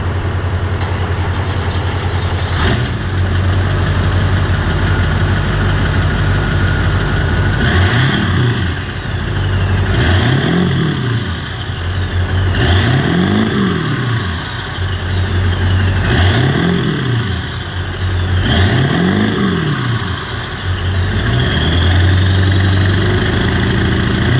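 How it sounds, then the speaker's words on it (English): A 7.3 diesel truck engine cranks and catches, settling into a rough idle, then revs up and down several times in repeated bursts. "Let's get this truck started up and get a couple revs out of it."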